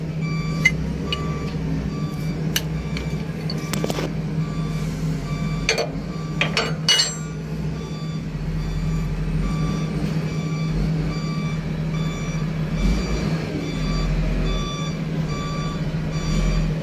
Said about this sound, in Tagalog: Kaya mayroon na kagad tunog yung reverse at umiilaw na kagad yung reverse light.